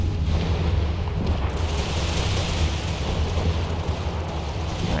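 Artillery fire in a multiplayer battle in the video game Empire: Total War, a dense continuous rumble of booming shots and distant blasts layered over one another, steady and loud throughout.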